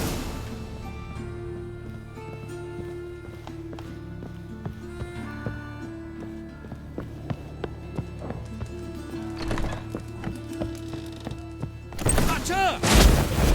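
Horse hooves clip-clop in Witcher 3 amid a busy game soundscape with music, sporadic gunfire-like bangs and a whinny, growing louder and more chaotic toward the end.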